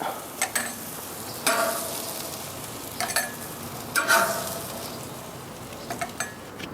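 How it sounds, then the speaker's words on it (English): Burgers sizzle as they come off a Primo Kamado grill, a steady low sizzle broken by a few sharp metallic scrapes and clinks of a spatula, close by and with no talking. "I'm going to take the burgers off of the grill now and let them rest a little while"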